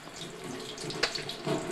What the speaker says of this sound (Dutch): Dat kan onder de kraan, hè?